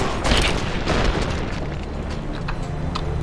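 A 10mm pistol firing and a head exploding in the video game Fallout New Vegas: two heavy booming bursts in quick succession, followed by a dense rumbling wash of noise.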